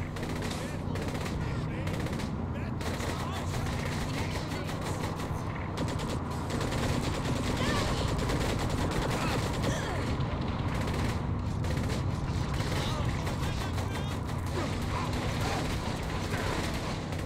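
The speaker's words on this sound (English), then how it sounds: "Shooting at Pierce, jeez." Continuous rapid gunfire and machine-gun bursts rattle through a Saints Row: The Third gameplay firefight, dense and loud throughout with short gaps and a voice speaking over it.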